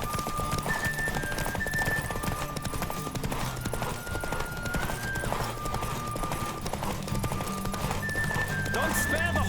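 Horse hooves clip-clop at a fast gallop in The Witcher 3 on PS5, with occasional neighing over a steady game soundtrack and mixed game-character dialogue throughout.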